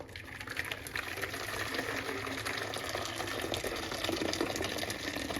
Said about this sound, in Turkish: Şimdi suyumuzu döküyoruz.